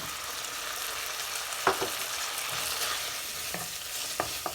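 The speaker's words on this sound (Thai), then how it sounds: "พัดไปเรื่อยๆจ้า" Spaghetti and cooked shrimp being stir-fried in a pan, a steady broadband sizzle with a few sharp scraping strokes of the utensil, close and continuous with no talking.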